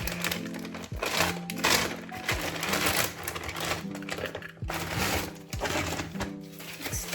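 A package holding a night dress is unboxed up close, with crinkly plastic and paper rustling and tearing continuously over faint background music.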